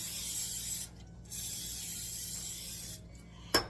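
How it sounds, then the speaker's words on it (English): Cooking spray is released in two steady hissing bursts, a short one then a longer one, onto a cast iron skillet being greased, ending with a sharp click. "So I'm just going to give it a spray."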